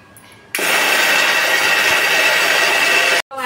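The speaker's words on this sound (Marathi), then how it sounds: "पोहे आता ना वाटून घेते मी मिक्सरला" A kitchen mixer grinder loudly whirs as it grinds soaked rice and poha with water, starting abruptly and running steadily for about three seconds before stopping.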